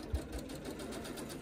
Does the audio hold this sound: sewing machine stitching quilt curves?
yes